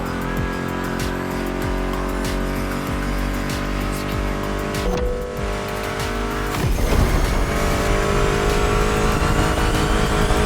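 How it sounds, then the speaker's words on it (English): Roaring car engines in the racing video game The Crew Motorfest rev and race continuously, with a loud engine burst and tire noise toward the end, over a steady mechanical drone. "Meshes well with the sound of the engines, you feel me?"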